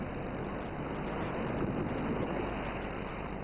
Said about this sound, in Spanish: Estos acantilados, azotados por la violencia de las olas